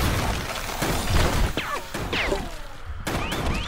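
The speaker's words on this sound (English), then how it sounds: "And the vortex bomb went off." A vortex bomb going off in the video game Spiral Knights during a hunting run, a burst of crashing, booming impacts and swooping whooshes layered with other game effects, loud and dense throughout.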